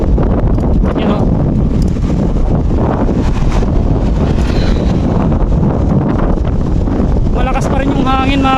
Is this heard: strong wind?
yes